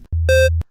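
A single short electronic square-wave beep from a retro video game sound chip, buzzy and harmonic-rich, sounds alone and ends abruptly after a brief low tone.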